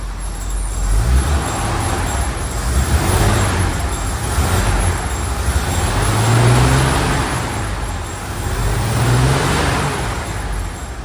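A 1969 Chevy C30 truck converted to 4x4 with new U-joints, running with a loud, steady low engine rumble that swells and eases in slow surges, heard close up.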